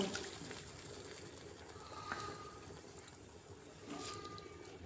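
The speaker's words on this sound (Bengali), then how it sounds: "এখন পরিমাণ মতো জল দিয়ে আলুটাকে সেদ্ধ করে নেব।" Water poured into a pan of spiced potatoes: a low, steady rushing and trickling, faint and continuous, with no talking.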